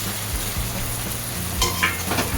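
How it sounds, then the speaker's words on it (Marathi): Soybean and green chilli fry in hot oil with ginger-garlic paste, a steady close sizzle broken by a few stirring scrapes near the end, no talking. "ती पण जरा आपण तेलात परतून घेणार आहोत."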